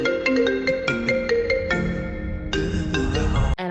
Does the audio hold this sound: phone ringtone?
yes